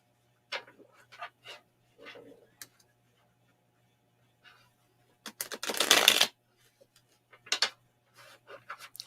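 Tarot cards are shuffled in a brief riffle, a crisp burst of rapid flicking, amid scattered quiet taps and soft handling sounds.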